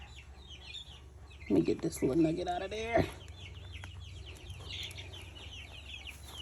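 Young chickens in a coop on a Florida homestead, including Splash Americanas, cluck and cheep softly and continuously, while a person speaks briefly up close over them.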